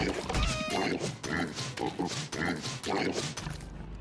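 Pig grunts from a creature being fought in the survival video game Don't Starve, repeated oinks and snorts layered over busy game music and effects, fairly loud throughout.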